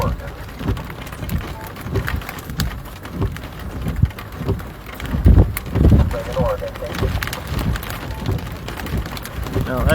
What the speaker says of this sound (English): No, that's just very large, very cold rain.